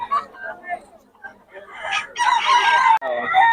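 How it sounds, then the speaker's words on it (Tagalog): Chickens cluck and a rooster crows close by, loud and repeated, mixed with people talking over them. "Solid mga katawan ng manok ni boss Cha mga idol"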